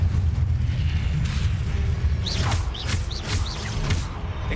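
A fire spell cast in Hogwarts Legacy bursts with a low rumbling whoosh of flame over steady background rumble, followed by several short bright crackling flares.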